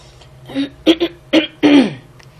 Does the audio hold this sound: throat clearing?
yes